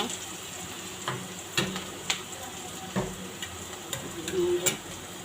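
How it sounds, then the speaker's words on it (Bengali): Onion and garlic sizzle in hot oil for a tempering, a steady soft crackle under several brief clinks and scrapes of a spoon against the pan. "পেঁয়াজ রসুন দিয়ে ফোড়ন দিয়ে দিলাম।"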